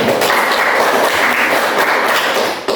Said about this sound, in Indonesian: Tepuk tangan dulu buat ibu.